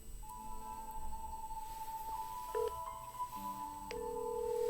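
Steady electronic ringing tone of an outgoing WhatsApp video call on an iPhone 7, a sustained near tone with brief pitch changes and short blips, heard alone without speech.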